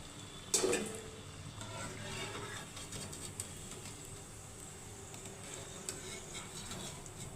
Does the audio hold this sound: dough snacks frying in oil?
yes